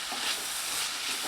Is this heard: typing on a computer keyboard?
no